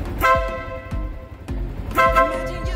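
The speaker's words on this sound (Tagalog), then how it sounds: "loud horn" A loud, brassy aftermarket horn on a Suzuki Sniper 150 motorcycle blares in two distinct bursts close by, harsher and fuller than a small stock horn, over a low idling engine.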